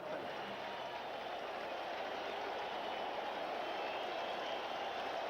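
A baseball stadium crowd at a 1984 Cubs at Mets game cheers and applauds for a home run curtain call, producing a steady, distant roar that holds evenly throughout.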